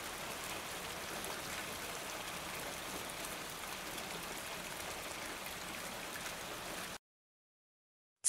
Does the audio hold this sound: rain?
yes